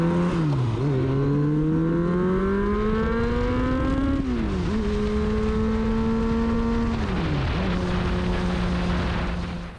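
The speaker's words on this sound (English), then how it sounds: "I'm going to let you listen to the bike again here for a second." A Kawasaki ZRX-1100 motorcycle is ridden with its engine loud and close, a strong droning note that rises steadily under acceleration and dips sharply at each gear change.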